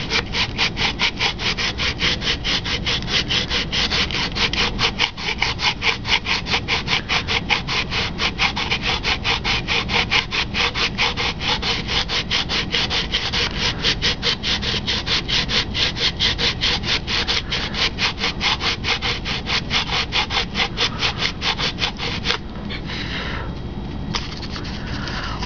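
An 80-grit sandpaper block is rubbed by hand across a balsa glider wing in quick, steady back-and-forth strokes, close and loud, before the scratching stops near the end.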